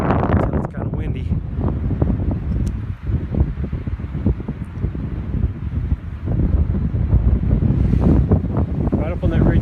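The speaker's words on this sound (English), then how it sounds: "It's kind of windy." Strong wind on a mountain ridge in Garibaldi Park buffets the microphone continuously, a heavy low rumble with gusty surges throughout, and a voice faintly beneath it.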